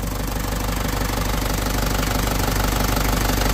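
A car engine, just started after mechanical trouble, idles steadily with a loud, close, rhythmic knocking rumble that stays constant throughout, with no talking.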